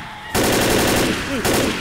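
Rapid automatic gunfire aimed at a Smoker infected in Left 4 Dead, a dense burst of close, loud shots that begins abruptly and runs continuously, with a brief break near the end and a voice talking over it.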